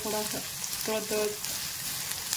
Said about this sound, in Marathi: थोडंसं तळायचं आहे, जास्त नाही, त्याचं वास निघेपर्यंत.